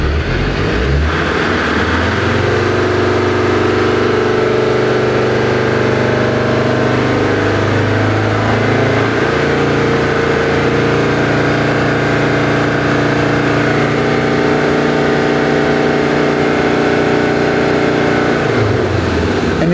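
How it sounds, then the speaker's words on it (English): A Land Rover Defender TD5 diesel engine at operating temperature, cranked and then running, a loud close steady idle with revs rising and falling smoothly in a few swells, no talking. "So I'm going to crank it up one more time because now the engine is getting to its temperature."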